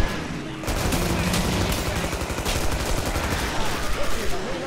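Rapid, continuous gunfire from a stomach-mounted gun in the horror shooter Killing Floor during a Hillbilly Horror event, a dense loud burst running nearly the whole time after a brief opening shot.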